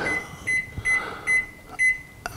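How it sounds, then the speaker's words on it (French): A microwave oven gives a run of short, loud, evenly spaced electronic beeps as it is programmed for cooking a terrine of foie gras, heard close up with no talking. "Je vais au micro-ondes. Je vais programmer à 100 watts"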